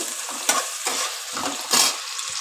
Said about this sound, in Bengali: আলুর সাথে কালো জিরেটা একসঙ্গে ভালো করে নেড়ে নেব আর আলুটাকে আমি খুনি লাল লাল করে ভাজা ভাজা করে নেব